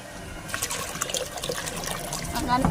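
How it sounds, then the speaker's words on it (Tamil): Water is poured steadily into a pot holding a money plant, making a continuous trickling, splashing flow at close range that grows slightly fuller toward the end. "இன்னும் கொஞ்சம் தண்ணி ஊற்றிக்கிடுவோம்"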